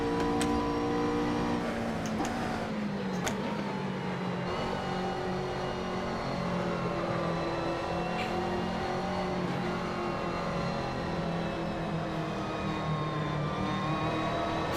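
Race car engine in Assetto Corsa held at full throttle in a Blancpain GT Series race, a loud continuous high drone with shifting harmonic pitch and brief gear-change blips, no talk.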